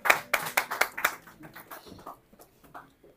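A church congregation claps in acclamation: several loud, rhythmic claps at the start, then the clapping thins out into softer, scattered claps with faint voices underneath.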